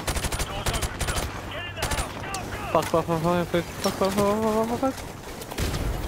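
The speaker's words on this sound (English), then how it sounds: "Nah, I'm shooting those people." Automatic gunfire and rapid shots ring out in the video game Modern Warfare Remastered during a campaign firefight, loud bursts at the start and end with someone talking and swearing over the shooting in between.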